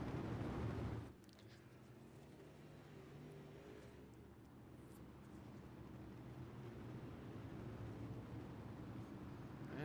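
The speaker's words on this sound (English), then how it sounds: "Got some cars getting the wave around." IMCA-style modified race cars circle the track at I-55 Speedway under caution. A brief louder burst of engine noise gives way to a low, steady, distant engine drone that slowly builds.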